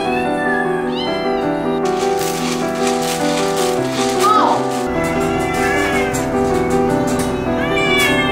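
Many rescue cats in a crowded shelter of about fifty, some of them abused, meow over a continuous tonal background, with several drawn-out cries standing out at close range.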